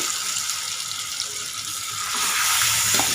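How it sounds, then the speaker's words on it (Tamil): Marinated chicken tikka pieces going into hot oil for a light fry, giving a steady broad sizzle that swells louder near the end, close and without talk. "இப்போது இந்த ஊற வச்சுருக்கிற சிக்கன் டிக்காவை இந்த எண்ணெயில் போட்டு"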